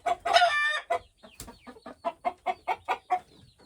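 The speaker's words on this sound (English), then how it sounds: "The rooster's already pitching a fit." A rooster on a farm lets out a loud crow, then follows with a rapid run of sharp, evenly spaced clucks, close and agitated.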